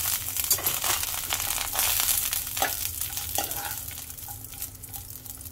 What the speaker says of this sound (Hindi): अब इसमें डालेंगे एक चम्मच घी और किशमिश को भी कर लेंगे किशमिश को भी फ्राई कर लेंगे